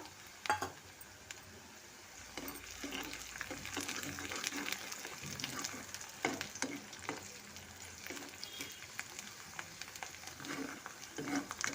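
Green chillies frying in a pan for a ridge gourd dish, with steady crackling sizzle, stirring scrapes and a few sharper pops over about twelve seconds, no voices.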